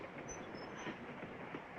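A passenger train rolls along its rails with a steady muffled rumble and faint wheel squeal, heard from inside a carriage, low and continuous without talk.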